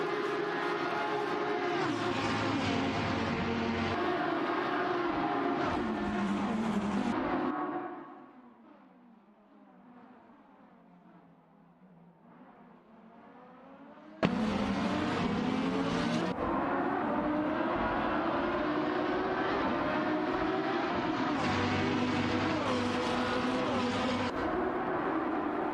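Race cars in an AI racing video game drone loudly at high revs, drop to a quiet lull, then return with a sudden burst and keep roaring, and no one speaks.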